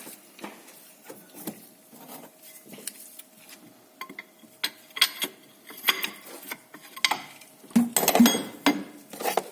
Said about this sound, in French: On peut serrer un petit peu les vis qui sont en dessous.